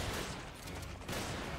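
Rapid, dense gunfire from the Resident Evil 5 video game, with heavy continuous shots close and loud through the whole burst and no clear pauses.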